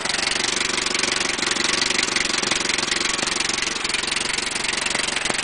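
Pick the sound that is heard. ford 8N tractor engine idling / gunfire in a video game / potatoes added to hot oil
ford 8N tractor engine idling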